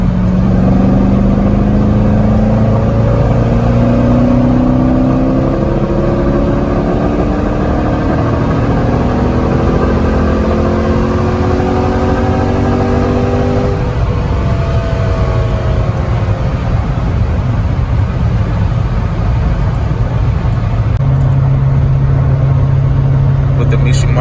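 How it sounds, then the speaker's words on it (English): A Chevrolet Corvette C6 Z06 engine pulls hard in 4th gear from about 60 mph, its loud droning tone climbing steadily over several seconds before dropping back to a lower hum, with voices speaking over it. "Ready for our first pull. Gonna do it at 4th gear, 60 miles an hour."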